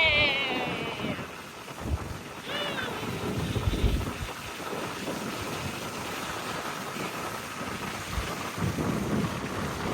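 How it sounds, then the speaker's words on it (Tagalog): Strong seaside wind in Puro, Legazpi City, Philippines, roars and buffets the microphone continuously, with gusty rumbling and faint background noise throughout. "Masyadong mahangin dito sa Puro, Legazpi City."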